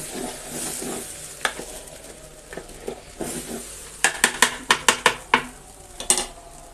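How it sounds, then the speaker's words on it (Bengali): White polao rice frying in a pot with raisins sizzles softly while a spoon stirs and scrapes, then knocks sharply against the metal in a quick series of close clinks. "সাদা পোলাও ভাজা হয়ে গিয়েছে, এখন দিয়ে দিব পানি"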